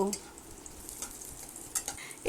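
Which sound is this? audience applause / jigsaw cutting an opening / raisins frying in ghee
raisins frying in ghee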